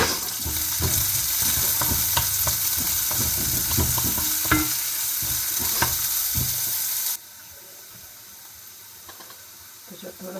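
Garlic and onion sizzle in a pan over medium gas, a loud steady frying hiss with occasional stirring scrapes close by, then the sizzle drops abruptly quieter near the end.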